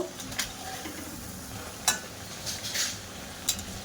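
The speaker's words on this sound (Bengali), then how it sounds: "একটু উল্টে পাল্টে লাল লাল করে ভাজা করে নেব" Taler jilapi, sweet palm-fruit fritters, frying in hot oil, giving a steady soft sizzle with faint stirring clinks and a few sharper ticks, close and fairly quiet.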